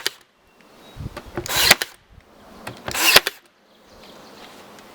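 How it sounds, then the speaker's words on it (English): A power drill drives one-inch number 6 screws into a wooden sandwich board sign in two short bursts of whirring, each followed by a pause, with quieter handling noises between. "I'm going to put a few screws in"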